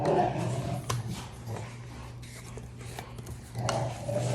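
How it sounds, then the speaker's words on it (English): Dogs growling and grumbling as they play-fight, low rumbling snarls with a few sharp yelps, fairly close and ongoing. "We got some wild dogs in the background today."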